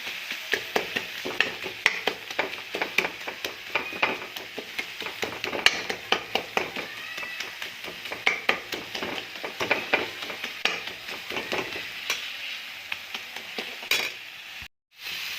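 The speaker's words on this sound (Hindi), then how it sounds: "मैं इसमें ऐसे घुमा के और मैं इसको एक जगह फेंट लूँगी" A spoon stirs and beats coriander powder masala in a pan, with rapid repeated scraping taps against the metal over a steady low sizzle, continuing briskly before a brief sudden cutoff near the end.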